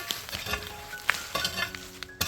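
A spoon stirs colocasia (taro) fry in a pan, making faint, irregular scraping and light clinking strokes over a soft sizzle, with no voices.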